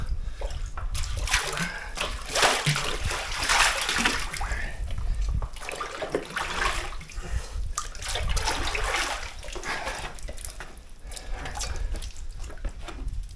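Cold water is scooped and collected from a murky pool down in a Utah canyon during off-grid primitive camping, with steady splashing and sloshing up close throughout.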